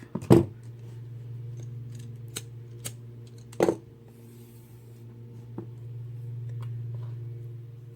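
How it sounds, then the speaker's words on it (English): Scissors snip the small end off a cord while beading kandi, giving a few sharp close clicks and snips over a steady low hum, otherwise quiet with no talking. "You can cut the small end off."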